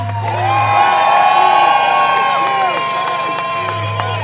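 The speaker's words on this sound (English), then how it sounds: "a massive round of applause and a big cheer for Itay" A large protest crowd in London breaks into sustained cheering and whooping with applause, loud and close, with shouts rising and falling over about four seconds before a low hum returns.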